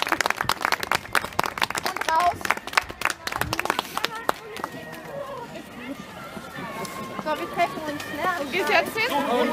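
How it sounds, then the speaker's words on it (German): Crowd at a harness racing track claps in an uneven, scattered burst that fades into murmuring chatter and voices, with people talking over the background noise. "jetzt möchte ich bitte mal einen Applaus hören."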